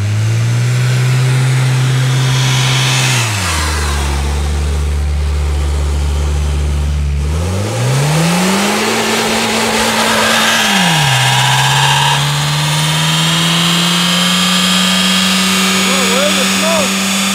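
A Mazda 3 engine revs hard while its tires spin, a loud steady drone that drops, climbs back up and holds a high pitch, with people talking over it.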